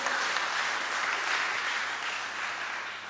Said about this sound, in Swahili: Tuwapigie makofi wana youth.